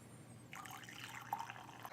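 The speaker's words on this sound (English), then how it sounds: "I'm gonna pour a little in the mug" Freshly brewed Bali Kintamani natural coffee is poured into a mug, a soft, quiet liquid stream that begins partway through and trickles on steadily at close range.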